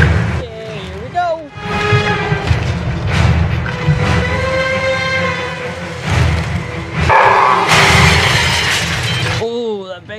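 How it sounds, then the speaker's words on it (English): A big creature growls in the film Aliens vs Predator: Requiem, a loud, rough, drawn-out roar layered with crashing effects and a dense film soundtrack across the whole stretch. "Ooh, that big growl."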